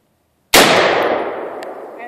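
A single sharp AR-15 rifle shot cracks loud and close after a moment of silence, its echo rolling away and fading over the next second and a half at an outdoor range.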